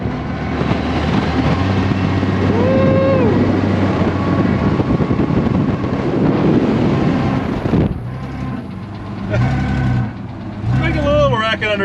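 An air-ride Chevrolet C10 truck accelerates in second gear, its engine giving a steady, loud roar with wind buffeting the microphone. Talk runs over the engine at first, then the truck eases off as voices continue.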